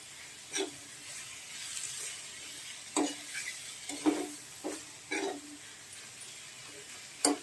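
Keema cooked with tomato in a Konkani spice mix is stirred and fried in a pan, giving a steady soft sizzle broken by several sharp scraping strokes of the spoon at irregular intervals, close and moderately quiet.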